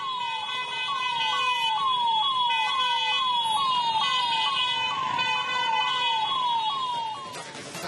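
An ambulance siren wails in a steady repeating up-down cycle, loud and close, caught in a traffic jam near CBT in Dharwad, with traffic noise beneath and a sharp burst at the end.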